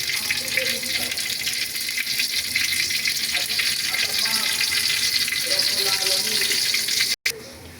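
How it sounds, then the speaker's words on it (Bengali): Small coriander leaf and rice flour fritters fry in hot oil, a dense continuous hiss and crackle filling the whole stretch with a few faint background thuds, briefly dropping out near the end. "এখন এটা আমি একটা ছোটো ছোটো চপ আকার করে তেলের মধ্যে ভেজে নিব।"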